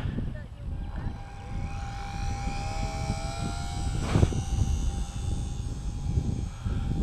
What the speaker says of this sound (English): what a great little plane to fly